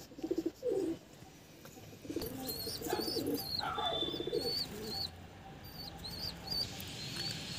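A high-flying Kalsari pigeon coos in a few soft, low calls at the start, followed by faint chirping and other bird sounds.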